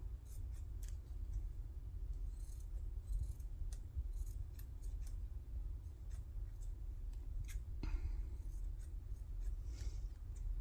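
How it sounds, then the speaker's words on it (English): Scissors cutting paper page tabs for a junk journal: repeated soft snipping and rustling of paper, close and quiet over a low background hum, no voices. "I'll go and I will cut to kind of get the look I want"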